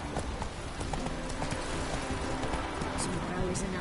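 Horse hooves clip-clop steadily in The Witcher 3: Wild Hunt, a continuous rhythmic trot mixed with game ambience and music, with a voice speaking over it.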